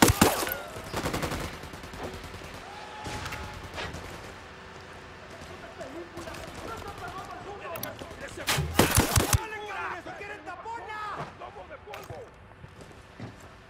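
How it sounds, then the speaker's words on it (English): Gunfire in the tactical shooter Ghost Recon Wildlands: a few sharp, loud shots and short bursts spread across the stretch, with voices speaking between and over them. "Taking a shot."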